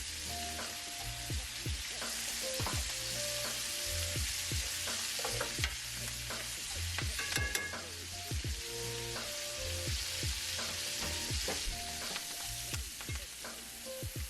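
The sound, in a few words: pork chops sizzling while basted with melted butter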